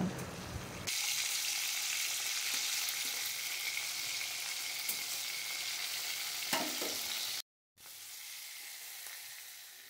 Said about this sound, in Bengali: চিংড়ি মাছগুলো দিয়ে ভালো করে সামান্য হালকা করে ফ্রাই করে নেব